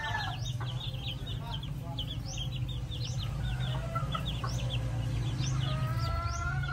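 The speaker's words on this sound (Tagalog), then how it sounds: "update tayo sa mga alaga nating sisiw" A brood of pet chicks peeps continuously in a dense chorus of high chirps over a low steady hum, close and lively.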